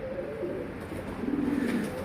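A pigeon coos in low, throaty, rolling notes, close and clear, over a soft background hiss.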